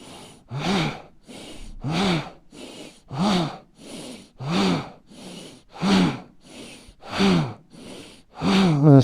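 Deep, slow breaths during a seated forward-bend yoga stretch, about eight even cycles of audible inhaling and exhaling, close and breathy, with no speech.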